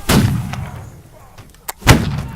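Two loud musket shots from the Holdfast: Nations at War battlefield crack out about two seconds apart, each a sharp close blast with a booming tail, with faint distant battle noise in between.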